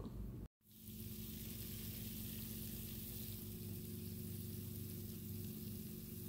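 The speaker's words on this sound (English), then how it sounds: "Can you hear the sizzle?" A freshly oven-baked taco casserole sizzles with a soft, continuous crackling hiss, interrupted by a momentary cutout near the start.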